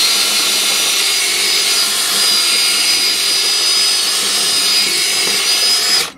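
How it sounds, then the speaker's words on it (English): Drill boring out aluminium rivets on a washing machine motor, a loud, steady high-pitched whine sustained for several seconds before cutting off abruptly at the end. "So it really shouldn't take too long to drill out."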